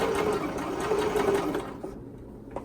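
A sewing machine stitches a knit neck binding in a fast, steady whir with a rhythmic needle patter, running continuously before slowing and stopping near the end, with a small clunk after.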